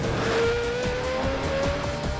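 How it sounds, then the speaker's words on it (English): A souped-up supercar speeds along with a loud, steady engine roar whose pitch slowly rises, accompanied by rhythmic thumps, with no talk. "time to cue the souped-up supercar"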